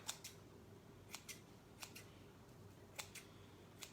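Scissors trimming a rose bundle for an elf-themed wreath, several quick crisp snips in small pairs and singles, close and faint against a quiet room.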